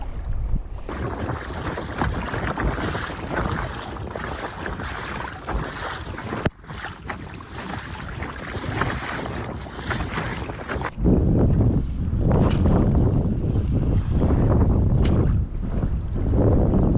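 Strong wind blows over Lake Biscarrosse-Parentis during a kayak fishing trip, a loud, continuous rush that buffets the microphone, with a brief dip partway through and a heavier, deeper gust toward the end.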